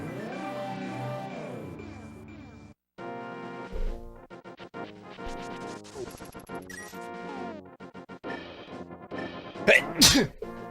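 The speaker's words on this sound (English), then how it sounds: "I sneezed." A single sharp sneeze bursts out near the end of a stretch of chiptune-style video game music from A Link to the Past, loud and close over the melodic backing.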